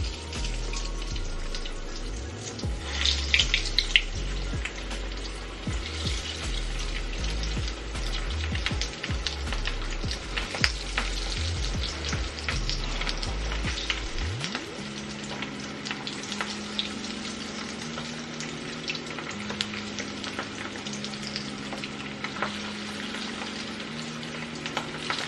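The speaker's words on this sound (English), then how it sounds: "I'm going to now start placing them in our hot pan of grease." Corned beef hash balls fry in a pan of hot grease with a continuous crackling, popping sizzle that holds steady throughout, while a low hum runs underneath; no voices.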